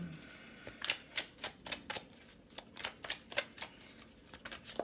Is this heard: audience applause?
no